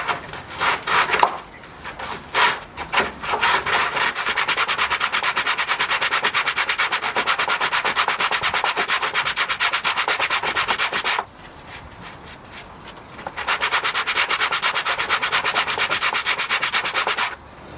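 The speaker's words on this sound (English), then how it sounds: "And then we get a bit of sanding paper." Sandpaper is rubbed by hand across a wooden pergola cross beam in a long, steady, loud scraping run, after a few short strokes, with a brief pause before the rubbing resumes.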